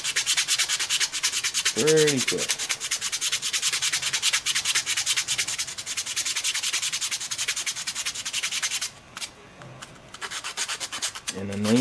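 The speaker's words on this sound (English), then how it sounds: "Now the sanding stick will tear all that stuff down pretty quick." A sanding stick rubs steadily back and forth across a fingerboard, a loud close continuous abrasive scratching that stops briefly near the end, with a short voice heard once.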